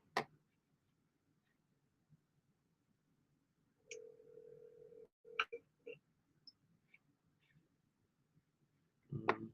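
A telephone is dialed: a few short beeps and tones, faint and sparse in a quiet room, with a longer steady tone in the middle and scattered clicks.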